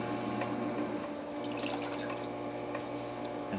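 Wet sponge wiping surplus water off a pottery wheel head after throwing a hand-paddled mug, heard as steady close dripping and trickling water with soft wet swishes and no talk.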